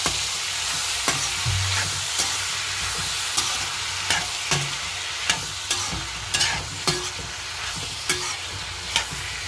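Green chillies, ivy gourd and ginger-garlic paste are stirred in a sizzling pan, a constant frying hiss broken by regular sharp taps and scrapes of a spoon against the metal, close and free of talk.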